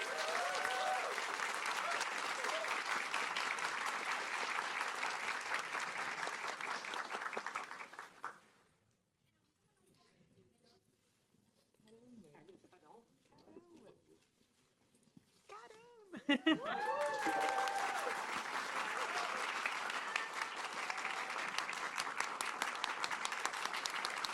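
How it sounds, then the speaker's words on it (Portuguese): A university lecture audience at a talk on Brazilian funk gives a round of applause, dense clapping for about eight seconds, then a quiet gap with faint voices, then loud clapping resuming strongly and continuing to the end. "se fizessem mais uma salva de palmas para eles"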